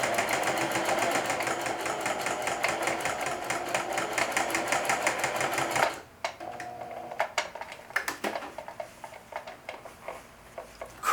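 Sewing machine stitching denim jeans for a back pocket, fast rhythmic needle strokes for about six seconds, close and loud, then stopping into quieter clicks and handling sounds.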